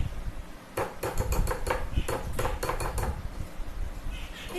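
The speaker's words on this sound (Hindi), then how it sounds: "अब मैं उसे अच्छी तरह से मिक्स कर देती हूँ।" A spoon scrapes and clinks against a metal pan while stirring a condensed milk mixture, a quick run of bright metallic taps and scrapes close by, no talking.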